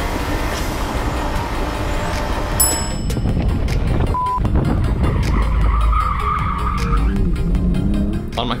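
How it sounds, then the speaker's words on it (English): Mazda Miata on an autocross course slides and its tires skid and squeal while the engine drones steadily, a loud, close, continuous run of tire noise. "I was really pushing the car too hard, resulting in time-robbing slides"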